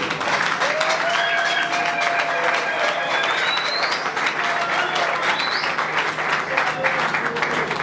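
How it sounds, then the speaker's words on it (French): A hall audience on its feet applauds at an official launch event, with dense, steady clapping and scattered whistles and cheers. The applause stays loud and continuous throughout. "sous les applaudissements de tout le monde"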